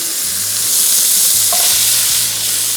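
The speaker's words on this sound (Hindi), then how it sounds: "चिकन को फ्राई किया थोड़ा सा और इसके बाद हम इसमें क्विकली शामिल कर देंगे सब्जियां, जिसमें बंद गोभी" Chicken with cabbage, carrots and peas stir-fries in a pan, a loud close steady sizzle with the scrape and clatter of stirring, and no voices.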